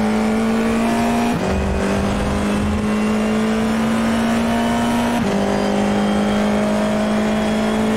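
A Formula 4 race car engine in the iRacing video game, heard as a loud, continuous high-revving drone that climbs steadily in pitch and drops sharply twice at gear shifts before rising again.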